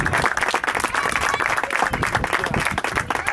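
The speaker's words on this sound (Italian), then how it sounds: "Si applaudisce." Crowd applause at an amateur football match, steady dense clapping filling the whole stretch at moderate loudness, with a few shouts mixed in.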